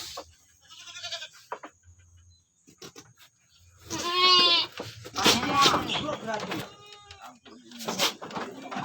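Goats bleat loudly several times close by, with people talking in between and over the calls.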